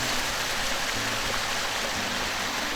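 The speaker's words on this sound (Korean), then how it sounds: "흐르는 물이 물소리가 참 좋은데요" Steady rush of flowing stream water at Muamsa Temple on Geumsusan, Jecheon, South Korea, constant and fairly loud, with no voices or other sounds over it.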